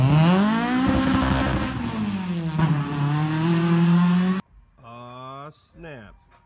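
A car from a motor-prep garage accelerates hard as it pulls away, its loud engine note rising and falling steadily for several seconds before cutting off, followed by quieter revs further off.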